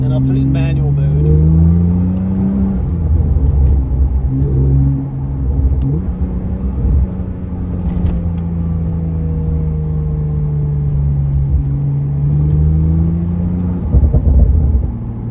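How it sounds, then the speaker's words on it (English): A modified 2015 Porsche 911 Turbo S (991.1) with a 3-inch exhaust in sport mode drones while driving, its note rising and falling, with a couple of sharp exhaust cracks heard up close. "I can put it in sport mode. You'll hear more burbles and pops."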